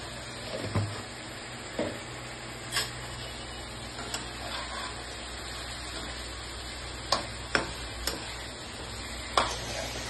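Chicken frying in a pan with masala powder added, a steady low sizzle running throughout with several sharp clicks and taps of stirring scattered across it; no talking.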